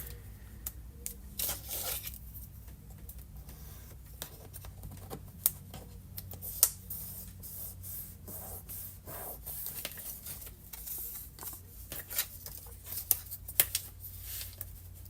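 Scissors snip and trim craft material for a Christmas-themed project, a run of short crisp cuts and rustles scattered over about fifteen seconds against a low steady hum, close and fairly quiet with no talking.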